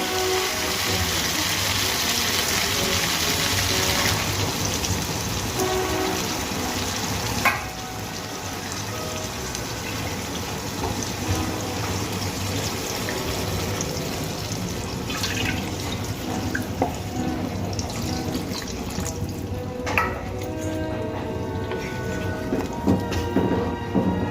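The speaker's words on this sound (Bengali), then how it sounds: "এবার আমি এর মধ্যে দিয়ে দেব পরিমাণ মতো জল।" Water pours into sautéed vegetables and spices in a pan for a rohu fish curry with drumsticks and potato, giving a continuous splashing rush that eases to softer trickling and dripping, with occasional clinks.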